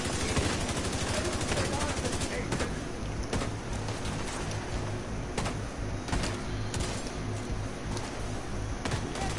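Gunfire in the video game The Division 2 crackles as rapid automatic bursts and sharp single shots over a dense, noisy battle backdrop, with faint voices mixed in.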